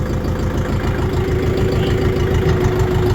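A Kentavr X404 walk-behind tractor engine idles loud and close, a steady low chugging drone with a fast, even knocking pulse throughout.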